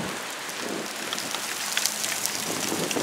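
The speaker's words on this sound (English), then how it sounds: "these fast-moving clouds are full of moisture, which are now pouring on our heads" Heavy rain pours down outdoors beside an FBI building in Newark, New Jersey, a steady dense wash of drops drumming on surfaces, with no voices heard.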